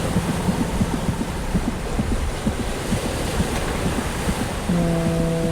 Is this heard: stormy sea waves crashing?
yes